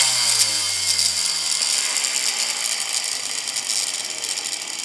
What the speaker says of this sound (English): That is the new old pull back and go motor.